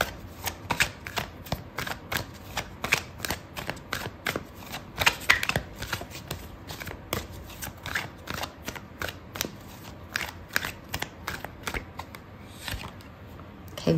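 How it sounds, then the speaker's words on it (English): Tarot cards are shuffled by hand in quick riffling bursts, a crisp papery flutter repeating in short rhythmic clusters, close and fairly quiet throughout. "I'm gonna pull out another card for you"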